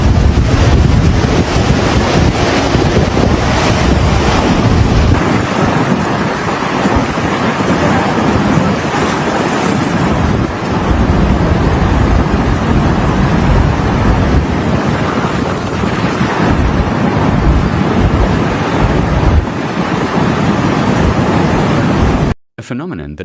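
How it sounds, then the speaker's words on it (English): Storm Harry drives huge waves onto the open Sicilian coast, a continuous loud roar of crashing surf mixed with heavy wind buffeting the microphone, sustained and unbroken throughout before cutting off abruptly at the end. "the formation of huge waves that hit the open coasts with very high waves"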